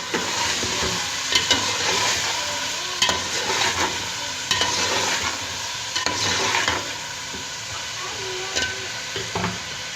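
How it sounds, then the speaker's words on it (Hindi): Potatoes and peas are stirred in a sizzling pan for matar pulao, a steady frying hiss with repeated scraping strokes of the spoon, close and continuous with no talk. "अच्छे से मिक्स कर लीजिए इन दोनों को, आलू और मटर को।"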